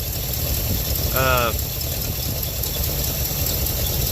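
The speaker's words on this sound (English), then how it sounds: "so it'll idle up when it warms up" A 1967 Chevelle engine idling nearby with a steady, low rumble throughout, with a brief voice heard over it.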